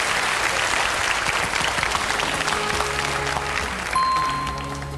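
Studio audience applauding a quiz show contestant on a French television game show, steady clapping that fades slightly as tones and music come in near the end.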